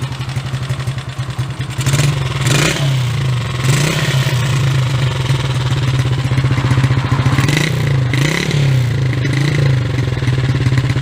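A Honda JX110 motorcycle engine idles close by with a loud, steady, rapid thumping pulse and a ticking valve clatter, with a brief rise in revs early on and no talk.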